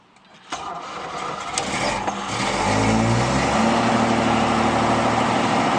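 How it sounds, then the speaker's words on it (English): A car engine cranks and fires up after a jump from a Whistler Jump & Go battery jumper pack, then settles into a steady, loud idle that builds over a few seconds. "let's see if I turn the ignition switch on"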